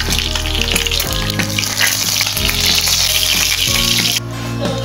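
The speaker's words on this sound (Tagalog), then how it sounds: "iprito muna natin itong tilapia" Tilapia fish frying in a pan, a loud continuous crackling sizzle with occasional sputters, close up and without talk.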